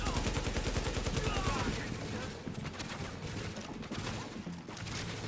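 Rapid handgun fire in The Division, fast volleys of shots stuttering like an automatic weapon, loud and continuous, with someone talking over the gunfire.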